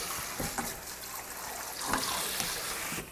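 Running tap water trickles steadily over a handheld kitchen whisk or milk frother being rinsed, with a few faint clinks and splashes mixed in, close and moderately quiet.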